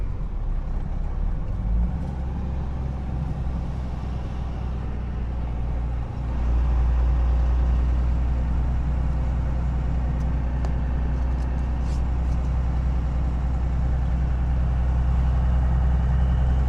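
Vehicle with a new diesel engine driving along the John Day River in rural Oregon, a steady low engine drone heard from inside that swells louder partway through.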